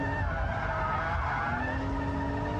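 Car drifting hard through a corner under full throttle, with a brief continuous tire squeal over engine noise, fairly faint and without talk.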